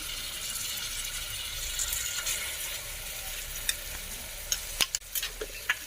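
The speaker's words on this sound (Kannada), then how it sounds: "ಇದಕ್ಕೆ ಇವಾಗ 2 ಸ್ಪೂನ್ ಶುಂಠಿ ಬೆಳ್ಳುಳ್ಳಿ ಪೇಸ್ಟ್ ಹಾಕೋತಾ ಇದ್ದೀನಿ" Ginger garlic paste frying in a pan for palak chicken biryani: a steady close sizzle throughout, with a few sharp clicks and scrapes of the spoon against the pan near the end.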